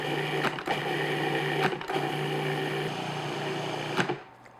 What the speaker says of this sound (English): I'm just going to process this until all the crumbs are moistened